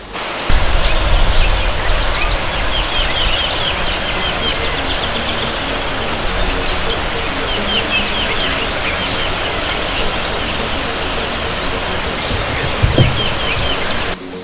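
Kisiizi waterfall roars loudly and constantly, with wind through the trees and birds singing faintly above the rushing water.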